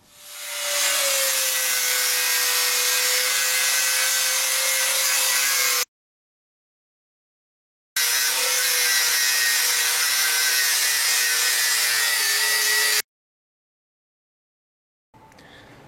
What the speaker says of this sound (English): I'm going to have to angle grind these bolts out first and then take off these fittings.